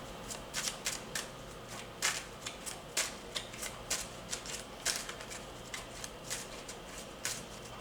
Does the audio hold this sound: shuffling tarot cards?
yes